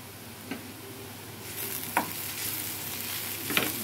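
Vegetables frying in a pan, lightly salted, give a steady soft sizzle that swells after the first couple of seconds, broken by three brief scraping stirs spaced well apart, with no one speaking.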